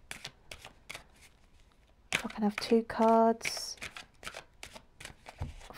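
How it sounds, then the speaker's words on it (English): Large tarot cards are riffled and shuffled by hand in quick papery bursts, loudest in the middle, while someone talks softly before and after. "They're quite big cards, these are, actually, to shuffle."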